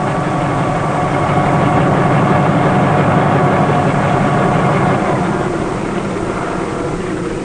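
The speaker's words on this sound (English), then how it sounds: "the helicopter, which can land in any area big enough for its whirling rotor" A 1950s helicopter engine drones with the whirl of its rotor, a steady, loud, dense mechanical hum that holds unbroken from start to finish without voices.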